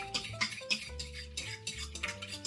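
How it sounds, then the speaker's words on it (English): Sugar and yeast mixture stirred with a fork in a bowl, rapid close clinking and scraping of metal on the dish in quick uneven strokes, fairly loud with no speech. "Gonna give that a stir with my fork."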